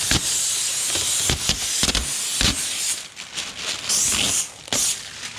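A handheld steamer hisses bursts of steam onto a car window during tint removal, loud, close and broadband, with several sharp on-off puffs and longer sustained hissing stretches.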